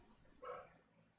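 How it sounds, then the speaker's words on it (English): A dog gives a single short, faint bark in a quiet indoor room, a brief isolated yip with no voices alongside. "my dog is getting bored. She's attacking or barking"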